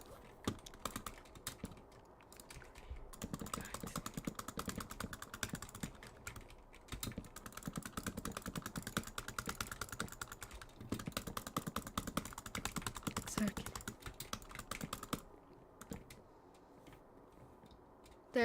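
Rapid clickety tapping on a computer keyboard during a Minecraft mall-building session, a dense steady stream of keystrokes that runs almost without pause for most of the stretch, close and moderately loud with no talking.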